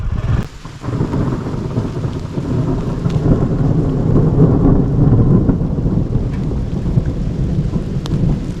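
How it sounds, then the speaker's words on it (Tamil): Heavy thunder rolls near a forest around a lone house in the Sathyamangalam area, deep sustained rumbling with a steady wash of rain underneath and a few sharper cracks, loud and with no voices. "இடியோட சவுண்டு பாருங்கள், இடி இடிக்குது."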